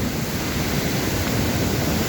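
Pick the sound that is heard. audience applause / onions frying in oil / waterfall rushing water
waterfall rushing water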